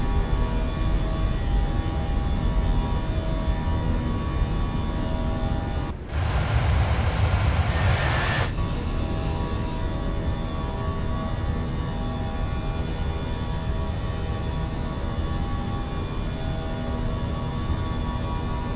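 Steady jet engine roar from an airliner climbing after takeoff from KIAD in Microsoft Flight Simulator 2024, constant and loud, with a brief rushing burst partway through.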